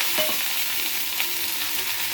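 Green chillies and curry leaves fry in hot oil, giving a steady, loud hissing sizzle throughout with faint crackles and no voices.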